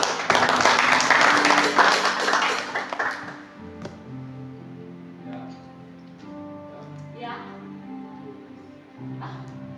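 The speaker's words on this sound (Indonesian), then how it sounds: "Tepuk tangan buat Tuhan Yesus." Congregation clapping in a church worship service, loud and dense for the first few seconds, then fading out beneath sustained organ or keyboard tones and voices.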